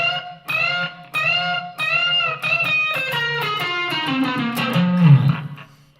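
A blues lick is played on an electric Stratocaster guitar with heavy reverb, as a run of bent, sustained notes with a slightly gritty tone. The phrase descends into lower notes and a final wavering bend, with no talking.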